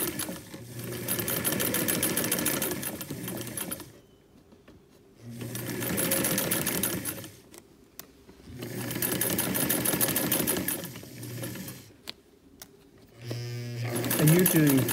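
A sewing machine runs small stitches along a quarter-inch seam in heavy fabric, in three steady, loud bursts with short pauses between them, and a brief clatter at the end.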